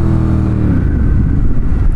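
A Ducati Monster 1200 S motorcycle engine whose transmission pops out of gear, a loud close rumbling drone with the revs shifting and fading partway through, no voices.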